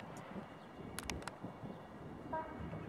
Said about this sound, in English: That was the train to Atlantic Terminal.